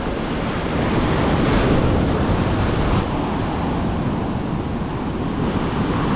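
Heavy ocean surf with a big swell roars on a South Coast fishing beach, a loud unbroken rush of breaking waves mixed with wind buffeting the microphone.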